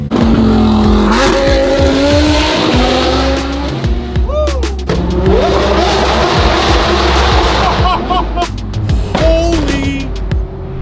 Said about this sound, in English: Let's hear some of these cars, man. Dude, it sounds so good.